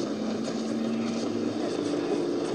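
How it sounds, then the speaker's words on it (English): Airplane flying overhead, a steady broadband engine drone that stays constant in level throughout, distant and unbroken. "Oh, there's a plane."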